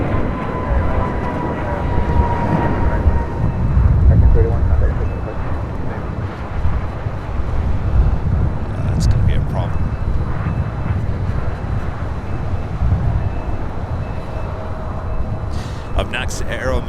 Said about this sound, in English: This is coming in from Phoenix, DHL operated by Airways 737-800